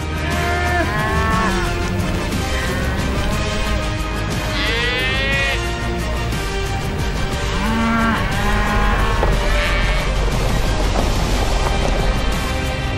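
Cattle mooing loudly and repeatedly as a herd of cows is driven along behind a tractor on a bull-breeding ranch, several drawn-out calls overlapping over a steady outdoor rumble.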